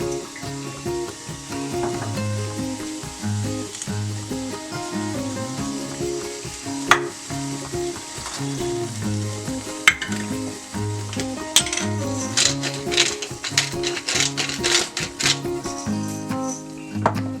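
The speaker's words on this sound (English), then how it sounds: "We have to let it boil until this mixture remains half." Herbal kadha spices boil in a pot of water on the stove, giving a steady bubbling sizzle with occasional clinks and stirring sounds, loud and close with no talk.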